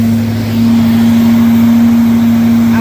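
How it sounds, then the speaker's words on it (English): A truck mount carpet cleaning machine scrubs an epoxy garage floor, giving a loud, steady motor hum with a constant droning tone and no break. "With this machine, we are going to start scrubbing"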